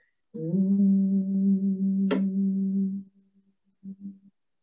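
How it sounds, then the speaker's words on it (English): A single person hums one long, steady low note during a chair yoga exercise, close and clear, then trails off into a few shorter, softer hums. "adding a humming sound to your movements"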